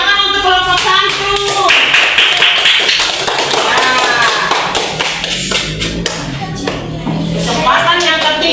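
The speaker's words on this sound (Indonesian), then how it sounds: "tepuk tangan untuk kelompok 1" Classroom pupils clap for group 1, a dense, steady patter of many hands close by, with children's voices talking and calling over the clapping.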